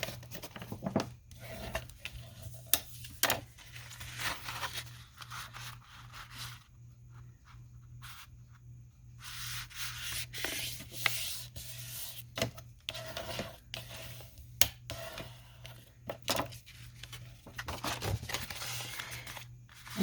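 Patterned paper page being folded in half by hand, close crisp rustles and crinkles in irregular bursts with a quieter pause partway through, over a faint steady hum.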